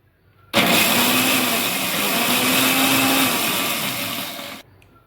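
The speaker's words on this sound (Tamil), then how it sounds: "தேங்காய் அரைச்சிடலாமா." A mixer grinder grinds coconut for a fish curry masala, starting abruptly, whirring loud and steady for about four seconds with a slight waver, then cutting off sharply into quiet.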